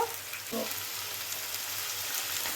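Masala with salt and chili powder sautéing in oil in a pan for a smoky paneer dish, a soft steady sizzle with faint scraping, fairly quiet and continuous.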